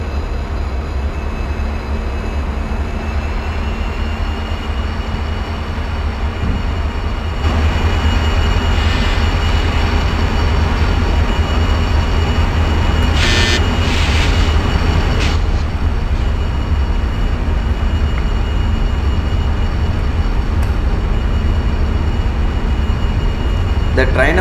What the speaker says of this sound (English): So we are, let's speed up the train.